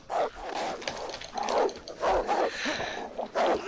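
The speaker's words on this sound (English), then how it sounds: "One wolf followed me. And this is what it's led to." Wolves growling and barking in the video game DayZ, a series of rough snarling barks in repeated bursts, close and fairly loud, with gunfire-like thumps underneath.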